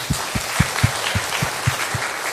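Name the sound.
church congregation applause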